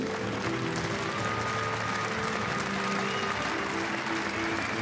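A badminton crowd applauding the Swiss Open 2013 champion, sustained dense clapping that fills the hall evenly at steady volume from start to end.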